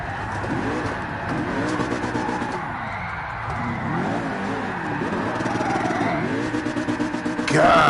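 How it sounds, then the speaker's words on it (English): A race car in Gran Turismo Sport revs hard in fourth gear, its engine note swooping up and down repeatedly and bouncing off the rev limiter in rapid stuttering bursts, loud and continuous. "that thing blasts the limiter on free rev"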